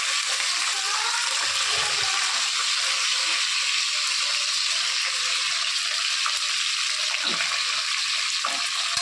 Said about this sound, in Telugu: బాగా వేపించాలి.